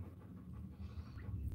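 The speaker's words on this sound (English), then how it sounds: "Strawberry, if you can hear the breathing, Strawberry is just out of breath right now." A dog pants hard and out of breath in a craft room, a steady close rhythm of quick breaths running the whole time.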